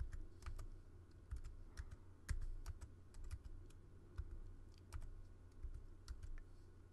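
Typing on a computer keyboard, quick irregular key clicks at close range over a low steady hum, faint overall and with no voices.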